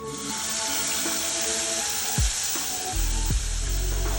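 A cup of water poured into a pan of golden fried onions with green chili, a gushing splash and hiss rising to a louder surge near the end, close and with no talking.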